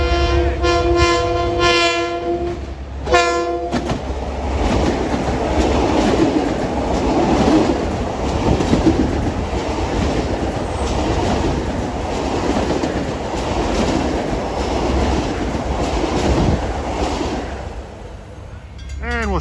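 A commuter train at Nassau Tower in Mineola sounds two short blasts of its horn, then passes close and loud with a steady rumble and rhythmic wheel clatter over rail joints that fades toward the end.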